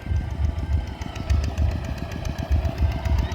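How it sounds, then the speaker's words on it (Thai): Steady, fairly loud rhythmic chugging of an Isuzu D-Max pickup's diesel engine in a rural village, pulsing evenly throughout with no talking. "ขี่รถดีแท็กไปสวน"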